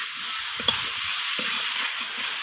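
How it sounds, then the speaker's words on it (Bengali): Spices and chopped capsicum sizzle steadily in a hot pan while being stir-fried. Occasional soft scrapes of a utensil stirring sound over the continuous frying hiss, close up and with no talking. "তো সমস্ত কিছু এইভাবে কষিয়ে নিচ্ছি।"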